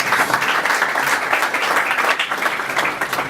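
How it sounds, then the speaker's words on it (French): An audience gives warm, sustained applause to honour a person at a Women's Day community gathering in Bangalore, a dense steady crowd of clapping throughout. "Est-ce qu'on peut acclamer cette personne?"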